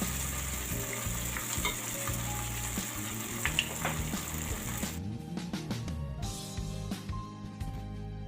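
Malpua batter cakes sizzling in a pan over medium heat, a steady close frying hiss with occasional pops and utensil taps, the sizzle thinning slightly halfway through; no voices.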